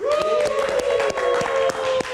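Studio audience applause on an Indonesian live talk show, dense and steady for about two seconds with a sustained musical tone running underneath.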